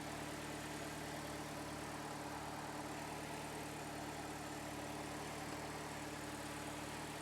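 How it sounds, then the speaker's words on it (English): A Chevy HHR engine idles steadily with a constant low hum and faint broadband hiss, unchanging and moderately quiet for the whole stretch. "Vehicle runs."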